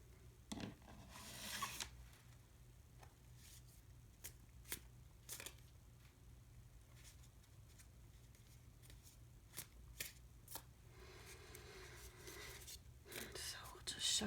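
Wild Unknown Tarot cards shuffled by hand during a reading, a quiet series of soft riffling and sliding bursts at irregular intervals against a faint low hum.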